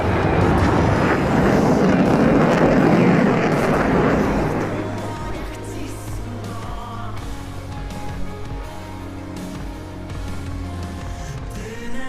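A Su-27 jet in the DCS World flight simulator roars loudly for the first few seconds, then fades to a lower, steadier engine drone with faint tonal hum beneath.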